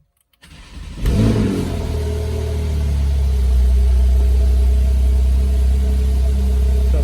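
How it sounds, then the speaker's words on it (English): Porsche 911 Carrera 3.0T with PDK, standard exhaust without the sports system, starts up and settles into a loud, steady deep grumble, close by with no talk over it. "Let's fire it up so we can hear that exhaust system."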